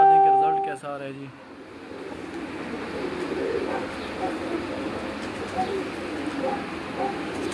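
Racing pigeons on a rooftop loft coo briefly at the start, a short tonal burst that fades into a steady outdoor background, with a person talking nearby.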